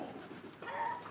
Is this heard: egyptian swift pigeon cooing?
yes